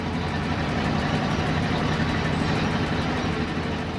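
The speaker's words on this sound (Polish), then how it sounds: "ten silnik moim zdaniem jakby wibruje" A bus engine idles steadily in the Bus Driver Simulator video game, a continuous low rumble with a slight vibrating texture, close and constant throughout with no speech.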